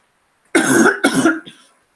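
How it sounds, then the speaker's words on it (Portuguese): A pair of loud, close coughs, the second slightly softer and trailing off, otherwise quiet. "estou um pouco engripado e estou com uma tosse aqui"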